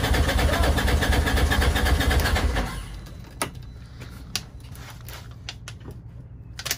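A toy hauler's engine cold-starting after sitting unused for a while, a loud rough idle for a few seconds before it cuts out, leaving faint clicks and knocks nearby.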